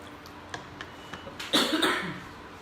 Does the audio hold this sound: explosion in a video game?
no